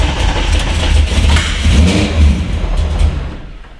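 A BMW E30 M3 track car fitted with an S65 V8 and an aftermarket exhaust revs loudly and steadily, a dense, close engine roar that swells through several pulls before easing off near the end.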